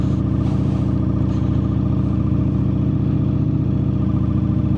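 A Ducati Streetfighter V4S motorcycle engine idles steadily close by, a continuous low mechanical rumble with no voices over it.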